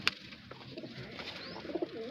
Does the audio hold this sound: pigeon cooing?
yes